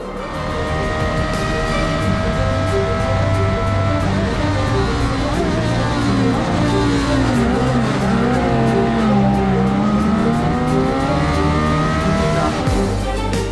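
Sierra RX-3 race car at the Pikes Peak hillclimb, its engine loud and sustained with rising and falling revs through corners, tires squealing at times, no talk over it.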